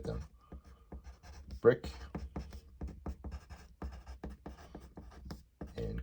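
A pen scratching across paper in quick, close strokes while a person keeps talking steadily over it.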